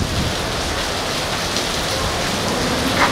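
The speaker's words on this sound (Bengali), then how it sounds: "পরক্ষণেই শুরু হয় বর্ষণ" Heavy rain falls on the capital after a nor'wester storm, a dense, even roar of downpour that holds steady throughout.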